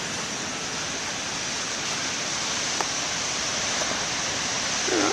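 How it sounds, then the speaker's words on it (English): Steady broadband roar of ocean waves breaking at a distance, continuous and fairly soft with a slight swell near the end. "I still think the waves ain't bad."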